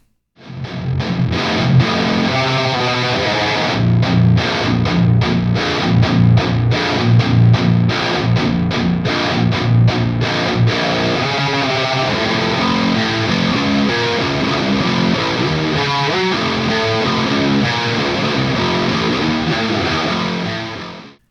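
Thick, sludgy distorted guitar riffs through a PRS Archon 50 amplifier chug loudly and continuously, heavy low-end chords with choppy staccato passages, no voices.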